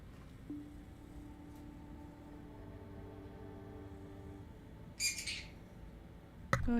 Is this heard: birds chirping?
yes